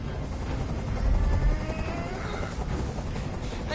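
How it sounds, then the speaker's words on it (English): A helicopter flies overhead in a video game, a continuous rumbling rotor drone with low thudding beats that swells briefly, then holds at a moderate, steady level. "Tell that helicopter to get out of here!"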